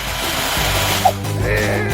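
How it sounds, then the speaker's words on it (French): Power drill boring into a hard prison wall, a loud continuous whirring grind that shifts pitch partway through, heard briefly and alone. "J'ai une perceuse."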